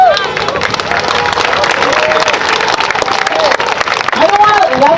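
A crowd at a Black Lives Matter protest in Traverse City, Michigan claps and murmurs steadily, dense broadband patter with voices and shouts mixed in throughout, loud and continuous.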